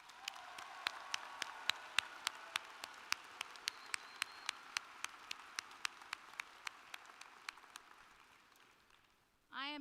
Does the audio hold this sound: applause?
yes